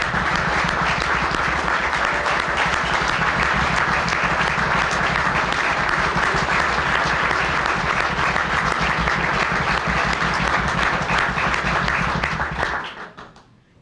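A banquet audience at a college hockey awards dinner gives loud, sustained applause that holds for about twelve seconds and then quickly dies away.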